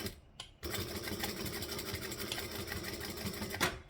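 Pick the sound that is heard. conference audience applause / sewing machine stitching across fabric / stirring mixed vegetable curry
sewing machine stitching across fabric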